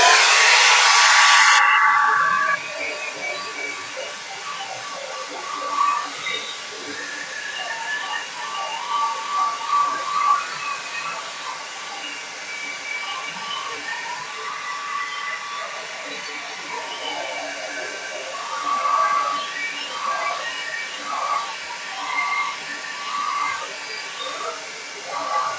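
A hair dryer blows steadily to dry paint on a sunflower painting, a loud constant whooshing hiss that runs the whole time, with brief shifts as it moves over the canvas.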